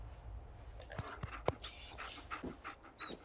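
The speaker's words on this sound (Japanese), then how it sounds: "いい犬だな。" A dog pants in the Fallout 4 video game, quick soft breathy huffs in an uneven rhythm, fairly quiet and close, mixed with faint game ambience.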